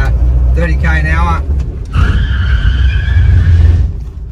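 An HT Holden station wagon brakes hard from about 30 km/h on its factory brakes, with a short tyre squeal and rumble close by while someone talks over it.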